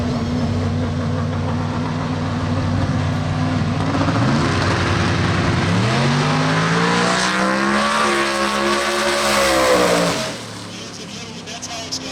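A Kenny Dangler Performance street race car, among the fastest street cars in the U.S., rumbles loudly at a pit walk and then revs in rising sweeps before dropping back to idle, close and dominant, with talk underneath.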